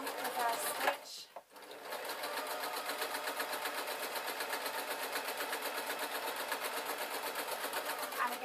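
A sewing machine running a seam along the edge of two layers of fabric, starting with a brief stutter and then a steady, fast, even mechanical whir, loud and close.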